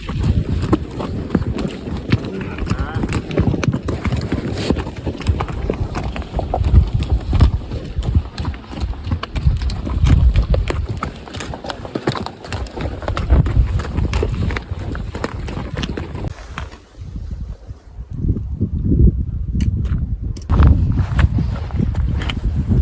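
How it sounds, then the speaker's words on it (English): Horse hooves clip-clopping along a mountain trail in Peru, an irregular rhythm of steady steps close to the microphone amid wind noise, briefly dropping away before resuming. "I got a horse."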